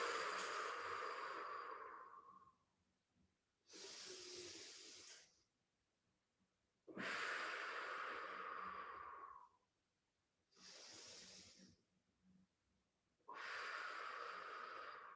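Slow, deep breaths during a yoga backbend pose, heard as three long exhales alternating with shorter inhales, close and fairly quiet with pauses between, and no talking over them.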